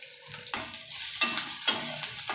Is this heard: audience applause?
no